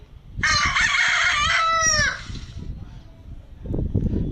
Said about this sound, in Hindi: मुर्गा कहते हैं जो सुबह उठाता है हमको, कॉक कहते हैं इंग्लिश में